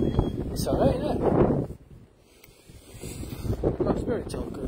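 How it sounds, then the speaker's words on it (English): Gusty wind buffets the microphone outdoors, rumbling in loud bursts with a brief lull, while people talk underneath. "Oh, windy out here."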